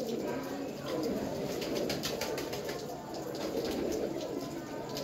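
Teddy pigeons coo softly and repeatedly in a breeder's loft, with a faint flutter of wings. A person talks over the birds throughout.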